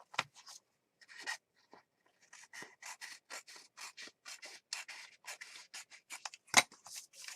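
Scissors snipping through paper during a mixed media craft session, a quick run of close, crisp cuts in irregular bursts with short pauses between.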